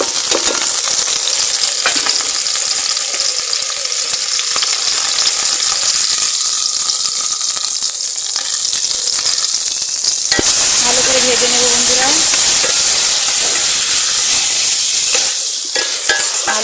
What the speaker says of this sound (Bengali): তেল গরম কড়া গরম হয়ে গেছে কিন্তু পেঁয়াজ কুচি লঙ্কা আদা গ্রেট করা দিয়ে দেবো তেলের মধ্যে